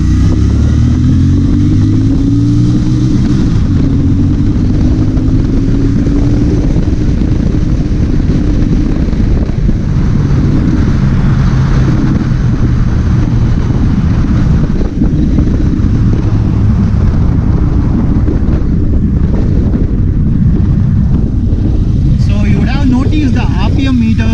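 Royal Enfield Interceptor 650 BS6 motorcycle accelerating hard toward 7,000 rpm, its engine note steady and loud throughout, rising in pitch through the gears, with heavy wind rush over the microphone and a voice talking over it.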